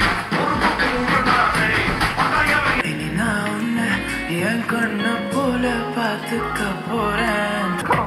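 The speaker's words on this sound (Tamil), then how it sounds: "இப்போ சில சாம்பிள் சாங் வந்து ப்ளே பண்ணி காமிக்கிறேன்." A sample song plays through a budget Mivi Fort S24 soundbar, full-band music with steady bass and layered instruments running continuously and fairly loud, with no talking.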